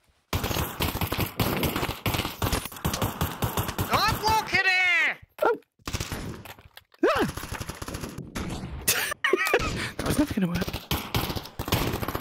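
Gunfire in the VR shooter Pavlov VR: sharp bursts of rapid shots in clusters, some fast and machine-gun-like, loud and close, with players talking in between.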